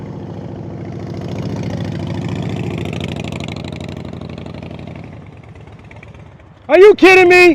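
A motorcycle engine at low throttle during slow-speed riding practice, a steady mid-pitched idle-like drone that fades off, followed by someone speaking loudly at the end.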